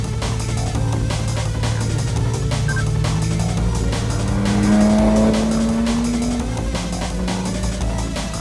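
A Porsche GT3 slides on track, its tires squealing in a long rising whine over the loud, steady engine note, which swells briefly mid-slide before settling.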